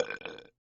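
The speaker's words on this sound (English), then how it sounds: "did you just burp?" A single short burp, loud and close, lasting about half a second before silence.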